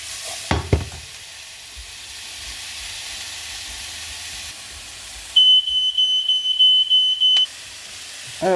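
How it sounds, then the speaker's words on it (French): Fish and artichokes roasting in a pan, a steady quiet sizzle throughout with a brief clatter near the start and a repeating electronic beep tone partway through. "on va les faire cuire un peu rôtis"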